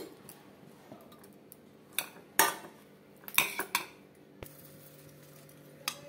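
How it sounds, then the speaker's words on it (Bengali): Boiled hog plums (amra) mashed in a metal pot, a few scattered scraping and clinking knocks of utensil against the pot, loudest in short bursts, with quiet gaps between. "এবার আমড়াটাকে আমি একটু ম্যাশ করে নেব এরকম করে।"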